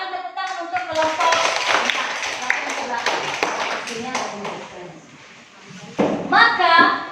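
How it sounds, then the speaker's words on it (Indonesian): A classroom of students claps for a student group, with brisk hand claps mixed with children's voices, a loud stretch that dips and then returns with a louder burst near the end. "Silakan tepuk tangan untuk kelompok"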